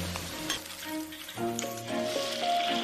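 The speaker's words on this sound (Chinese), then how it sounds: "新鲜的辣椒反复爆炒，直到炸至香脆" Fresh chili peppers stir-fry in hot mutton fat in a wok, a steady loud sizzle with occasional metallic clinks of the spatula, close up, with a soft musical background.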